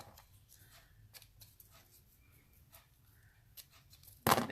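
Scissors snipping the ribbon ends on a handmade Christmas card: several faint, quick clicks in an otherwise quiet room, with a louder rustling burst at the very end.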